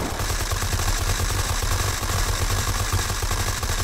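Sustained automatic gunfire in the survival shooter Unturned, a dense, loud, continuous rattle of rapid shots filling the whole stretch with no pauses and no voices.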